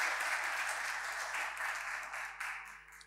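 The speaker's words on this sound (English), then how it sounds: "So I really invite you to just give applause to Mr. Herreman." Warm audience applause at a conference masterclass on payments, many hands clapping steadily and fading slightly toward the end.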